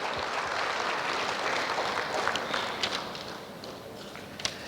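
A crowd applauds at a police commissionerate annual press meet: dense, even clapping that holds steady for several seconds and then slowly thins out toward the end.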